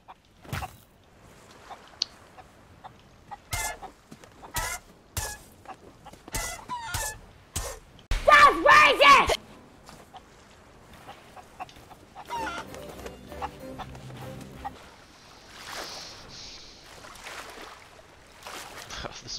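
Chickens clucking aboard a pirate ship in Sea of Thieves, a string of sharp, close cackles and squawks scattered among game sound effects, with a burst of louder bird noise midway and faint water and creaking beneath.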